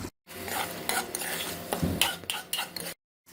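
Beef being stirred and fried in a karahi pan for a Shinwari karahi, with steady sizzling under repeated scraping and clinking of a utensil against the metal pan, close and moderately loud.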